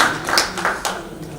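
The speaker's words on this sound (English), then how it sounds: "give a big round of applause for the great speaker for this session" Audience applause after a seminar session, a short burst of scattered hand claps that fades within about a second and a half.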